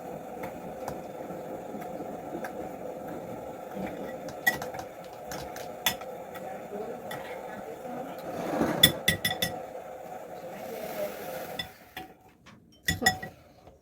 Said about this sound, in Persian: ابتدا با قاشق هم میزنیم